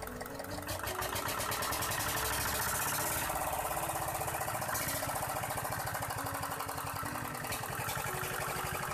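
A diesel engine running steadily up close, with a dense, rapid knocking rhythm and a loud mechanical clatter that holds throughout without pause.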